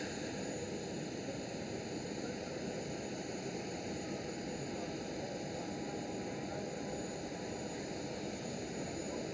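A Transavia airliner arriving at Amsterdam Schiphol gives a steady, broad engine roar with a thin whine over it, holding level for the whole stretch without fading.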